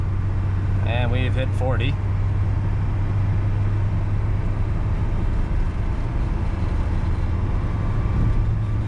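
A 1977 Mercedes 240 Diesel engine labours at full throttle while climbing uphill, a steady loud drone and road rumble running throughout, with a brief spoken remark near the start.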